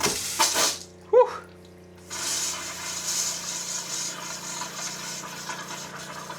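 A hot water tap in an off-grid home under construction sputters and coughs with trapped air, giving a sharp burst, then settling into a steady close rushing flow.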